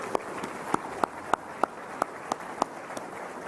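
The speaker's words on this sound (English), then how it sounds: "Let's give them a big round of applause for their support." An audience at a state economy speech applauds the event sponsors, a soft, distant bed of clapping with a few sharper, evenly spaced claps standing out near the front.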